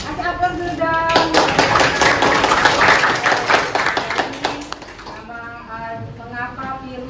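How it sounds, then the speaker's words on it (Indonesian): Students in a classroom break into lively, dense clapping that swells for about four seconds and then stops abruptly, with talking before and after. "Kasih aplaus dulu dong"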